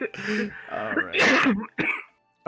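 A single sharp sneeze-like burst during a tabletop game session, preceded and followed by people talking.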